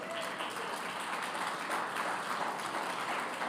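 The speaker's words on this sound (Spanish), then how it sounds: "¿Por qué no se dan un aplauso a todos ustedes?" A small group claps together at a moderate, even level for a few seconds, the applause steady and somewhat distant, with no speech over it.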